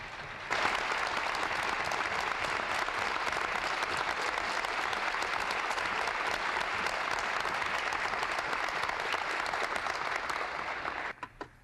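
Sustained audience applause in a formal address setting, a dense, even wash of many hands clapping for about ten seconds before tapering off with a few last claps.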